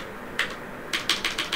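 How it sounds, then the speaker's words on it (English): A few crisp computer keyboard key presses come up close and alone, a single tap followed by a quick run of four clicks. "Oh, dude, I can control this with the keyboard."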